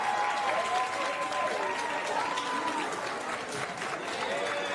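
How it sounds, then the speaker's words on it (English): Sustained audience applause fills a hall for fashion designers at a streamer university event, a dense, steady wash of clapping with tonal voices and cheers woven through. "So I would like for you guys to give a round of applause to these next designers."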